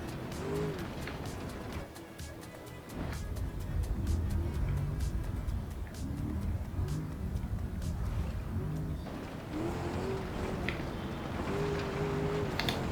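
A car in the BeamNG Drive driving game, partly off-road, has a continuous engine drone with revs that repeatedly rise and fall as it moves along, fairly close and steady.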